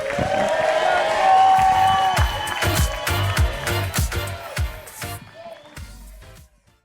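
Wedding guests applaud and cheer as the best man comes forward to speak, a lively mix of clapping, whoops and crowd noise over music that fades out at the end.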